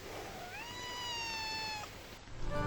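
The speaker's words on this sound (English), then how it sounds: "Hey, kitty cat." A cat gives one long, rising then level meow, clear and fairly close in a garden setting, followed by a brief rustle at the end.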